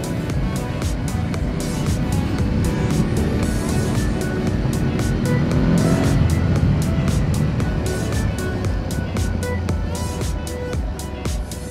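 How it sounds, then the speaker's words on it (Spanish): Aprilia Tuareg 660 motorcycle engine while riding, a loud continuous engine drone mixed with heavy wind rush, swelling slightly midway, with no speech. "Pues me gusta la respuesta del motor"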